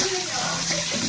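Water running steadily while something is washed, a continuous broadband splashing flow from a tap or poured into a tub, with some speech-like tones mixed in.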